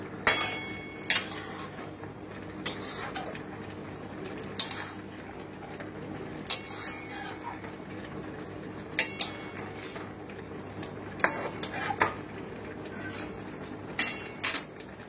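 A metal spoon clinks and scrapes against a cooking pot in scattered, irregular strokes while spices for a mutton dish with chui jhal are stirred continuously. The clinks are fairly close over a low steady background, with no talk.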